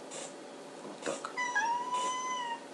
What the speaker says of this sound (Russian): Даже кошка моя, слышите, кричит.